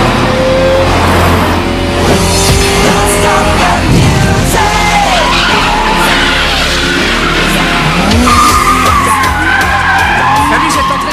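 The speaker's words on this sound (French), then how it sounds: "c'est la voiture du jeune Takahashi. Qu'est-ce qu'il roule" A car racing hard on a mountain road: a loud, continuous engine roar with long squealing tire skids through the corners, the pitch sweeping up and down as it drifts.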